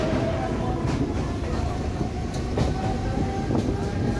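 Inside a Mumbai Harbour line local train, a steady loud rumble of the moving carriage fills the space, with faint rhythmic wheel clatter throughout.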